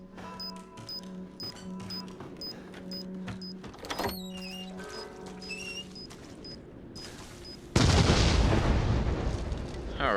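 A remote bomb in the video game Resident Evil 7 goes off after a stretch of beeping game tones, ending in a loud, sudden blast with a rumbling, crackling roar that carries through the final seconds.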